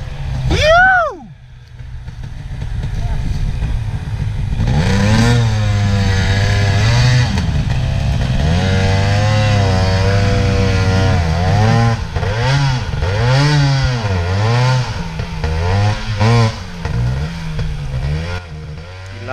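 A trail motorbike is ridden along a bush track, its engine loud and close, revving up and down repeatedly as the rider works the throttle and clutch, with no talking over it.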